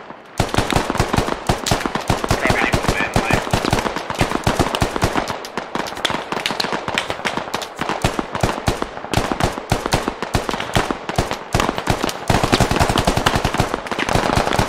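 Sustained automatic gunfire in the Squad military shooter, dense rapid bursts of shots rattling loudly and continuously with only brief gaps, mixed near and distant weapons.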